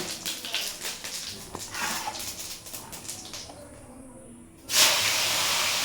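Cumin seeds drop into hot oil for tempering, and a loud, steady hiss bursts out near the end. Quieter kitchen clatter and rustling come before it.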